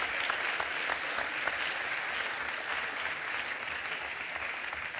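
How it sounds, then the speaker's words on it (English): A conference audience at European Development Days 2013 applauds steadily, a dense, even wash of many clapping hands continuing without pause for the whole stretch. "round of applause for some of these really insightful views and conclusions"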